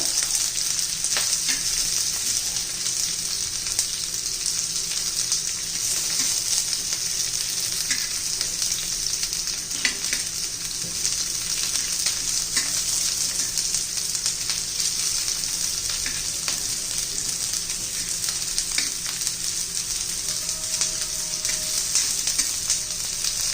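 Bitter gourd pieces frying crisp on a tawa over medium heat, a loud continuous sizzle with faint crackles and occasional stirring taps, no voices.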